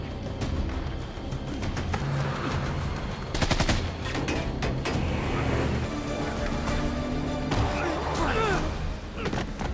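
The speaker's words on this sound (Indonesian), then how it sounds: "akhirnya aksi tembak-tembakan pun terjadi" A movie shootout erupts with continuous gunfire, rapid machine-gun bursts and heavy shots layered over rumbling action sounds and thuds, loud and dense throughout with short louder volleys.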